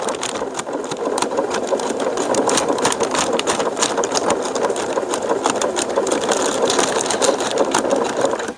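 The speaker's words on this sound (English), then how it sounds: "And we'll sew this stitch here." Industrial sewing machine running steadily while stitching a kite tail loop, a continuous dense mechanical whir and rapid needle clatter, loud and close throughout with no talking.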